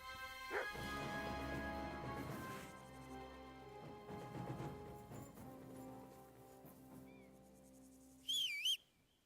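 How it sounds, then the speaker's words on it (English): Rabid dogs in Kingdom Come: Deliverance II bark repeatedly in bursts over soft medieval game music, followed near the end by a brief sharp whistle-like squeal. "We got rabid dogs."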